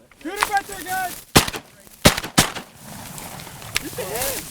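Shotgun blasts while hunting mallards in a Nebraska slough: three sharp, loud reports in quick succession, with shouting voices and duck calls before and after.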